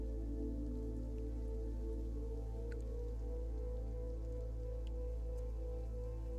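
Steady rain falling outdoors, a dense continuous patter on surfaces at a low, even level with a few louder drops here and there, no voices.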